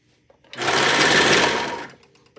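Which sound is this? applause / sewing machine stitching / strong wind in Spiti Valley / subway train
sewing machine stitching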